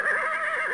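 A horse in a Robin Hood video game lets out a loud, sustained whinny with a wavering pitch that fills the whole short moment, close and prominent with no talk over it.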